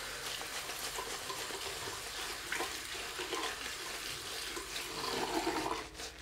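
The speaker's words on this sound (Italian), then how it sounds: "E apre di nuovo l'acqua" A water tap running during a wet shave with a RazoRock Baby Smooth razor, a steady close rush of water that swells slightly near the end.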